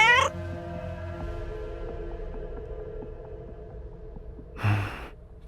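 A cat in the Eastmouth game episode gives a short meow at the start and another brief, breathy cry near the end, with a quiet, steady hum between them.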